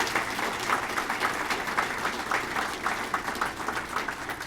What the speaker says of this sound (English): Let's give them all a round of applause for our students.